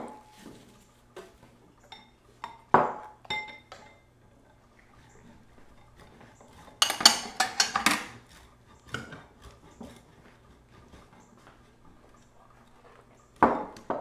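Vegetable soup being ladled into a bowl in a home kitchen, with scattered light clinks of dishes and utensils and a few soft liquid pours, moderately close, with brief quiet stretches between sounds.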